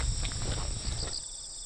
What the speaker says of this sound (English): The sounds of the chirping crickets added to the serene view of the distant, hazy mountains.